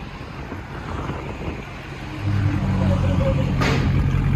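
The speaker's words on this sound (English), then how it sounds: "Wow, listen to that idle." A Daytona edition engine idles with a steady low rumble that grows noticeably louder and fuller partway through, then holds at a constant level.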